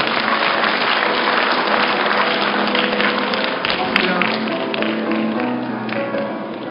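Large-hall applause at a 2009 university degree ceremony as an award recipient is congratulated, a dense continuous wash of clapping that fades slightly toward the end, with voices beneath.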